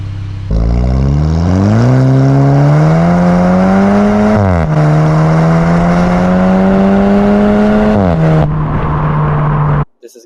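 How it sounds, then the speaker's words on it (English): A 2015 Volkswagen Polo GTI with a 1.8 TSI engine and a custom-fabricated exhaust, revving loudly and steadily up and down, close and alone, before cutting off abruptly. "custom pipework done by BS Exhaust Fabrication in Roscommon, Ireland, which really brings the sound to life compared to stock"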